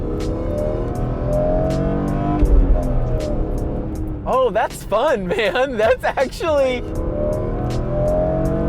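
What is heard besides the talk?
BMW E46 M3 engine revving while driving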